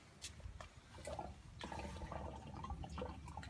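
Water pouring into the reservoir of a hydroponic tower, a quiet rushing and splashing flow with small drips and gurgles that swells partway through and then continues steadily, faint and heard without talk.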